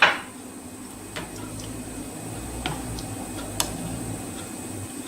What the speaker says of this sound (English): So we're dishing up all the fish